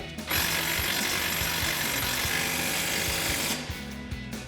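An impact wrench with a 19 mm socket hammers a coil-over bolt tight on a 2005–2014 Ford Mustang, one loud, continuous rattling burst lasting a few seconds before it stops.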